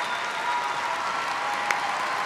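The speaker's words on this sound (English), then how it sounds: "I want everybody to give them a big round of applause." Audience applause at an event honouring workers, a steady wash of many hands clapping throughout, moderately loud and even, with a faint tone running underneath.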